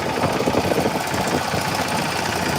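A boat engine runs steadily throughout a river boat ride on the Narmada, a continuous mid-low idling drone with a rough, knocking vibration and no pauses.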